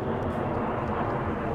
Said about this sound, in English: There's an airplane flying above us.